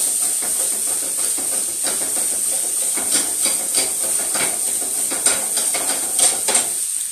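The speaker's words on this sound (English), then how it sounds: "I'm just shaking up the veggies" Chopped vegetables sizzle and hiss in a hot pan, a steady loud frying hiss broken by rhythmic rattling bursts as the pan is shaken, with no talking.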